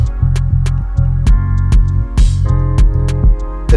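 TurboClinic oil leak tester running a test on an assembled turbo, giving a steady low mechanical hum with a regular throbbing pulse, loud and close, repeating roughly twice a second throughout.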